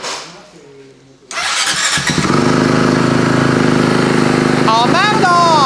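A Honda race motorcycle prepared for an enduro event kicks into life after a short quiet spell, then roars loudly and steadily at close range with rising revs near the end, while people talk over it.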